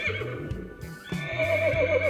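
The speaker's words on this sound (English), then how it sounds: "my Zeekr can make horse sounds" Horse neighing sound played by a Zeekr X AWD electric car, a short whinny over faint clip-clop hoofbeats, heard alone at moderate volume without talk.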